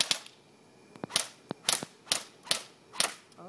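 An MP5 airsoft gun fires a series of about eight sharp, snappy single shots at irregular intervals, close and crisp, with no talking.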